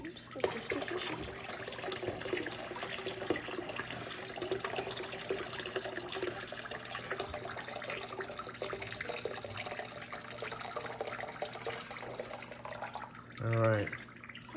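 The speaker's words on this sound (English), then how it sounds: "Now we're just going to pour this into the pond." Hot water poured into an outdoor fish pond, a steady running, splashing wash of water throughout with voices talking faintly beneath it.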